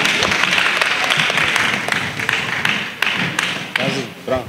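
An audience at a children's church gathering with Pastor Menye claps loudly and steadily, a dense wash of hand claps with a few sharper taps and a voice coming through near the end.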